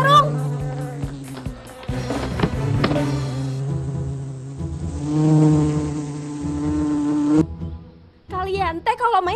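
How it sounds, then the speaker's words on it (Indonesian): A swarm of attacking bees in an Indonesian cartoon buzzes loudly and steadily, with voices and tonal effects layered over the drone before a brief drop and another burst of buzzing. "Ngapain kalian main sama lebah?"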